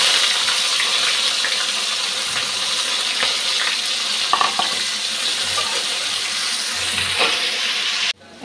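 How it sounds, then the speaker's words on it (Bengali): Onion and green chili fry in hot oil for a radish and Katla fish curry: a dense, steady sizzle close by, with scattered clinks and scrapes of stirring, cutting off abruptly near the end. "এখন পেঁয়াজ কাঁচা লঙ্কাটা দিয়ে দিচ্ছি।"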